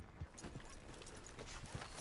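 A horse in the video game Red Dead Redemption 2, faint hoof clip-clops at a walking pace spaced through a short stretch, soft and slightly distant under a low background wash.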